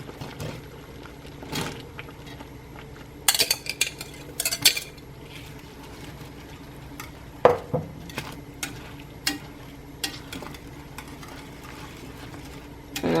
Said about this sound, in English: just start whisking